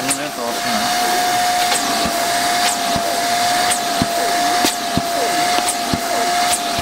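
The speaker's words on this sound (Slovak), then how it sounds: "Ja ti poviem, prečo vysávame tú sedačku" A vacuum cleaner runs steadily while cleaning a sofa, its loud continuous whine holding a constant pitch, broken by regular bumps and scrapes as the nozzle is pushed and pulled over the upholstery.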